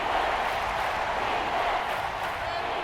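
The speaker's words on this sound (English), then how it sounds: "this crowd making it hard to hear" Dense stadium crowd roar in a Madden NFL 24 simulation of the Tampa Bay Buccaneers vs Carolina Panthers, a steady loud wash of many voices with no break throughout.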